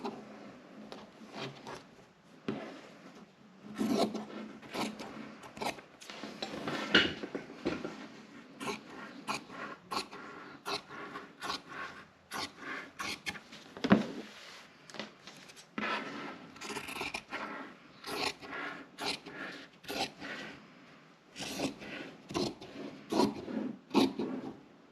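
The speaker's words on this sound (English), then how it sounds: "I'm going to take my scissor and trim off this little bit of excess we have" Scissors trimming excess fabric while making bias tape, a series of soft close snips and fabric rubs in irregular bursts, quiet and with no talk.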